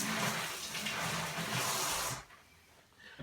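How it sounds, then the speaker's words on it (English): Water running from a kitchen tap over a knife sharpening steel, a steady broadband hiss that continues for about two seconds and then abruptly cuts off into near silence. "all I'm going to do is just run this under the water"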